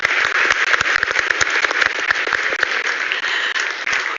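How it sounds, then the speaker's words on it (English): A conference audience gives the panelists a loud, sustained round of applause at the close of a COP30 session. The dense clapping carries on steadily without a break. "big round of applause."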